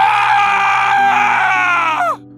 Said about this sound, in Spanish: Un grito ensordecedor venía de donde estaba la tumba.